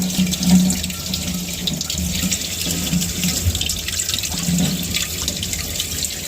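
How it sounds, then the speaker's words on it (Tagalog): Ginger is washed under a running kitchen tap, giving a steady close splash of water with small shifts and handling sounds as the root is rubbed clean. "Tapos, ugasan natin na maigi."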